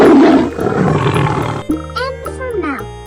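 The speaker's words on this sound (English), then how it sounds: "L for lion." A lion gives a deep, loud roar that swells and fades over about a second and a half, followed by light chimes and jingly tones in a children's alphabet learning song.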